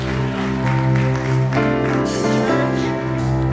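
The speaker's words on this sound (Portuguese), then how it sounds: "Aplauda o Senhor com alegria nessa manhã" A church congregation claps along during a Sunday morning worship service, the steady clapping blended under loud sustained worship music that fills the whole stretch.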